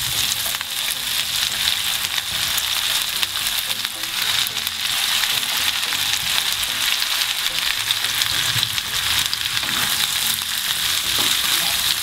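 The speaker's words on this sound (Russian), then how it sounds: "Спустя 4 минуты обжаривания кабачка отправляем сладкий перец." Zucchini and sweet pepper fry in a pan with a steady, dense sizzle that stays loud and even throughout, with no talk over it.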